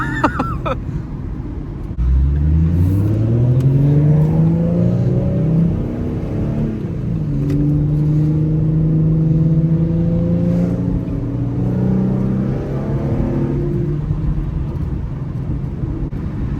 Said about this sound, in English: I have the windows down a little bit for some exhaust